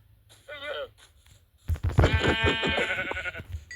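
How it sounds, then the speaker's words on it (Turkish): Sheep bleat in Minecraft: a short wavering bleat, then a louder, longer bleating cry with heavy low rumble beneath it. "Şurada bir koyun."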